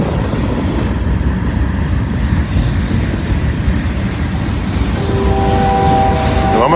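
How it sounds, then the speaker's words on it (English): An oncoming southbound freight train passes the other way at a meet, a steady loud rumble and wheel roar throughout, with a faint whistle-like tone near the end. "Yep, got a train coming the other way."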